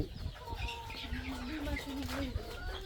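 Desi laying hens on a small farm clucking and murmuring in short, overlapping calls close by, with faint voices in the background.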